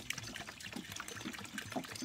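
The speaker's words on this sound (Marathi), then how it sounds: "आता हे असे धुवून घ्या लागतात" Ground wheat being washed by hand in water, with steady close splashing and trickling that runs throughout.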